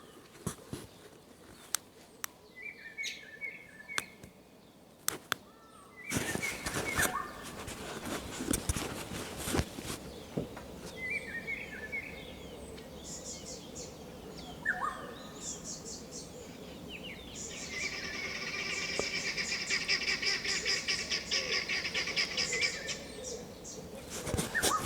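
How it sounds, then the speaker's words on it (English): Birds chirp and trill outdoors at a distance, scattered calls over a rising background hiss, with occasional rustles and footsteps nearby. "the birds"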